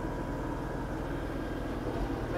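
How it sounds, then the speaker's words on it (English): An LS tractor's engine holds a steady, loud, rumbling drone at PTO RPM while plowing snow, a continuous mechanical hum with no pauses. "I'm revving it up to about PTO RPM."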